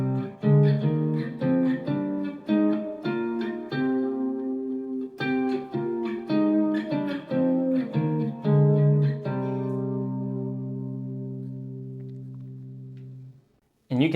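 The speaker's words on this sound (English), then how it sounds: "if I were to play horizontally, the fifth using hybrid picking sounds something like this." Electric guitar runs minor-scale fifths horizontally with hybrid picking, giving a quick, bouncy series of plucked two-note intervals that ends on a held chord ringing out and fading, with no talking.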